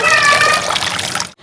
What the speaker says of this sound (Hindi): अभी वॉश करके रखते हैं, अच्छे से पानी ड्रेन हो जाएगा।